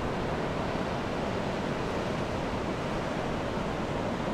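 Pacific Ocean surf rolling onto the sand at Uvita beach in Costa Rica, a steady broad wash of wave noise, loud and continuous with no distinct breaks and no talking.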